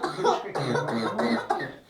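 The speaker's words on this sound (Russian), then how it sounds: "Видишь, какой кашель? Жуткий." A child coughs close by, several harsh, wet coughs in quick succession, with brief gaps between bursts.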